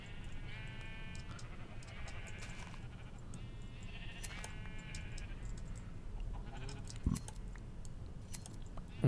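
Several sheep bleat in Minecraft, repeated wavering cries at moderate distance over a soft ambient bed with light clicks, spaced irregularly across the scene.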